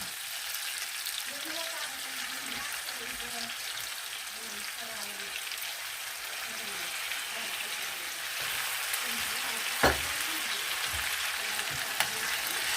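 Washed buckwheat frying in a pan for a buckwheat pilaf, with a continuous sizzle and a low background murmur throughout, plus a single sharp knock near the end.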